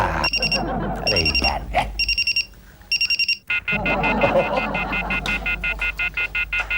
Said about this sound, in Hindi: इसका अलार्म बंद करो तो उसका अलार्म शुरू होता है, उसका बंद करो तो इसका शुरू हो जाता है